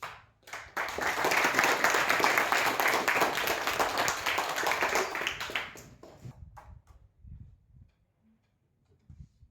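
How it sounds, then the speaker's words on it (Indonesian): A classroom of students claps together in a Christian religious education lesson, a sustained round of quick, bright applause lasting several seconds before tapering off into quiet with scattered small sounds. "Tepuk tangan"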